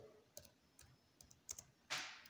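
Keys typed on a computer keyboard at a desk, a quiet run of separate taps with a short final burst, close and alone with no talk.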